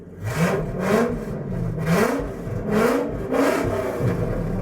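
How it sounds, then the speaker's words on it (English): A straight-piped Ford Excursion V10 engine, catalytic converter stolen, revs repeatedly in rhythmic surges, roaring up and dropping back with a harsh, rumbling exhaust note, close and alone. "when a V10 Excursion gets its catalytic converter stolen, it sounds like"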